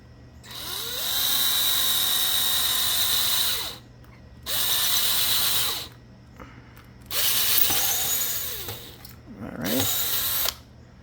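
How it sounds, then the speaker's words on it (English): A power drill bores a hole into wooden furniture in four bursts, each a loud, steady high whine that stops abruptly before the next, close up and with no talking. "I'm certainly not in the habit of wanting to drill holes in my furniture"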